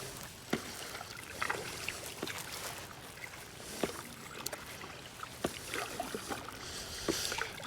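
Kayak paddling on a choppy lake: repeated splashy paddle strokes and lapping water around a small boat, close up, with no voices.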